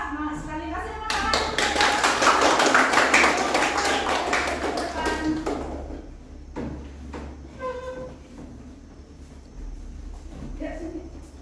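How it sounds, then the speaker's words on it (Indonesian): A classroom group of students gives a round of applause, dense clapping for about five seconds that then thins into scattered claps under voices and movement. "kelompok 2, semangat sekali, kasih tepuk tangan"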